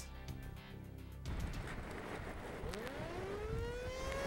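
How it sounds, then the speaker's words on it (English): A distant tornado warning siren winds up with a rising, wavering wail over a low background rumble, in Louisville. "Tornado sirens went off in mid-April"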